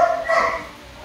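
A single close, short dog bark with a slightly whiny tone at a home before a swimming outing, fading quickly into quiet background.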